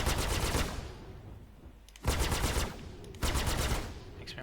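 Rapid automatic fire from a spaceship's guns in a space combat game, in three loud, close bursts with short pauses between them.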